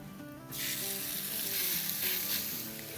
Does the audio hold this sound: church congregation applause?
no